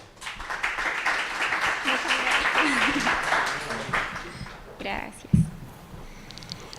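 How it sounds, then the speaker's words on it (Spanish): A conference audience claps for a speaker in a steady wash of applause that swells for several seconds, then thins out to scattered claps while a voice speaks over it. "Un fuerte aplauso para ella, por favor."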